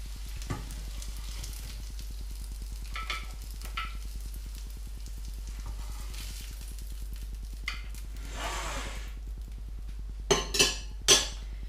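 Oil sizzles quietly as a vegetable rosti mixture fries in a frying pan under a low electrical hum, with occasional clinks and scrapes of a utensil, and louder taps near the end.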